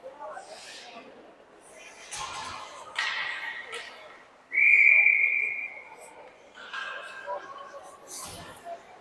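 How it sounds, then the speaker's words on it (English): Referee's whistle blown once, a single sharp shrill blast, during a junior girls' ice hockey game, heard over an announcer's play-by-play commentary and arena noise. "The whistle will get called here."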